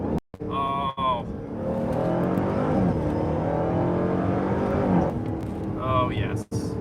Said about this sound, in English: That is a lovely cacophony of sound from that mixture of the supercharger whine and then the HEMI V8 that just takes over